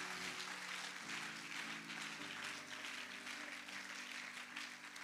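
A church congregation applauding and acclaiming during a sermon, a soft, continuous wash of clapping at low volume, with sustained keyboard chords playing underneath.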